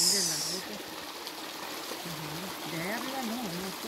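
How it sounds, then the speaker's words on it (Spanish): Natural spring water flows steadily from a pipe outdoors in rural Guerrero, a soft continuous trickle heard under people talking nearby. "Pura agua natural, ¿eh? Ay, sí, bien limpia. Ahí está saliendo."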